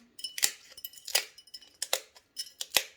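Scissors snip through dried avocado pieces straight into a jar, a series of crisp, close cutting clicks in an uneven rhythm, about six distinct snips with no voice.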